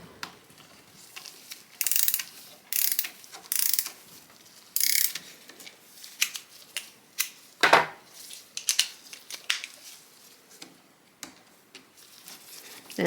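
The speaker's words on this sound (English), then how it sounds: "That little ratchet just gives me enough extra leverage that I can pull things out easily." Rapid ratcheting clicks from a hand ratchet loosening a screw on a 1927 Singer 127 sewing machine, coming in short loud bursts with pauses between, then sparser individual clicks and ticks nearby.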